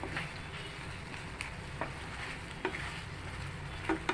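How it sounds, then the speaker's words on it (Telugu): Sweet potato sweet cooking down in thickening syrup in a pan, stirred with steady scraping strokes over a continuous low bubbling sizzle, with occasional sharper clicks of the spoon against the pan. "ఇలా కలుపుతూ ఉండాలండి, లేకపోతే అడుగంటేస్తుంది."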